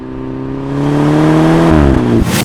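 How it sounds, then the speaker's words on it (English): A 2021 BMW 230i with a turbocharged four-cylinder engine accelerates hard, its loud, rising engine note climbing steadily through the revs before a brief shift-like dip near the end. "Aside from the slight turbo lag, you'll hardly remember that this is a four-banger."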